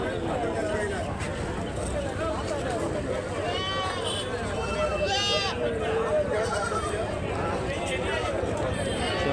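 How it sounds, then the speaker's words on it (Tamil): A sheep ewe with her lamb bleats at a busy Mukkudal livestock market; a few nearby bleats rise above constant crowd babble and people talking. "செம்மறி தாயங்குட்டியும் கிடக்குங்க."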